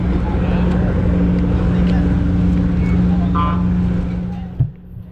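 A Yamaha X-Max motor scooter rides alongside, its steady engine drone continuous and close with a strong low hum, fading toward the end after a brief bump.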